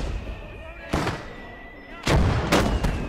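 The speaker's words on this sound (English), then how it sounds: "I got both mortar teams softening up." Mortar fire in the video game Gates of Hell, heard as a few heavy booming blasts of artillery, one near the start and a tight cluster toward the end, over a low battlefield rumble.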